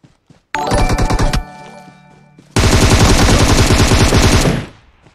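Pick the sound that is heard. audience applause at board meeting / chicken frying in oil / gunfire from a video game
gunfire from a video game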